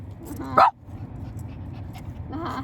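A big dog gives one loud, sharp bark, followed by softer whimpering and whining that rises again near the end, close by and indoors.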